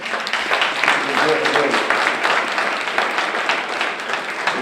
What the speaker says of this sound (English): let's give him and Merritt a round of applause